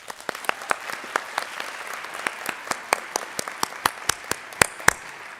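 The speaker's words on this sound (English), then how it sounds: "Please join me in applauding these special guests" Audience applause for special guests at a pharmacy school ceremony, a steady patter of many hands clapping at moderate distance, with a few sharper individual claps standing out and no voices.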